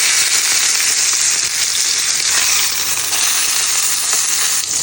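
Steak searing in a hot pan, a loud, dense, continuous sizzle close by, steady throughout with no talking.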